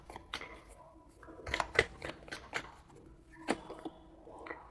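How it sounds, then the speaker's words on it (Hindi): Tarot cards being cleared and gathered give brief, close papery flicks and slides in small irregular bursts, fairly quiet, with no talking over them. "अब क्लियर करते हैं इन कार्ड्स को एक्वेरियस थोड़ा सा"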